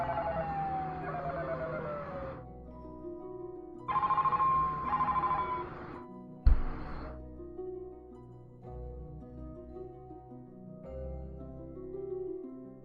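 A telephone rings in two or three separate electronic bursts, each a couple of seconds long with short gaps between, over a quiet background.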